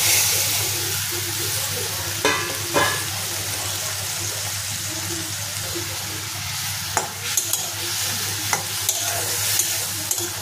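Fried vegetables stirred in a hot pan with spices and black cumin while cooking a kangla fish curry, giving a steady close sizzle with scraping stir strokes and occasional sharp clinks.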